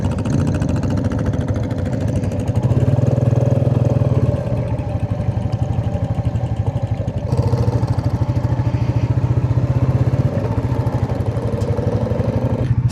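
Group of seven motorcycles, four Royal Enfields, two Triumph Bonnevilles and a Moto Guzzi, rumbling together on a Scottish ride, a steady loud throb of engines idling and revving close by with no talk.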